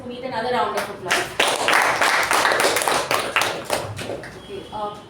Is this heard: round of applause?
yes